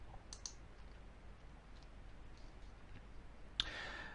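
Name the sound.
mouse clicking on a green button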